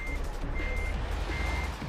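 Truck reversing beeps repeat in a steady, evenly spaced pattern over a low engine rumble in the Euro Truck Simulator 2 video game.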